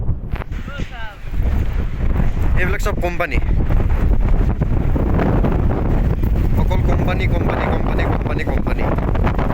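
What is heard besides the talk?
strong wind blowing at a hilltop viewpoint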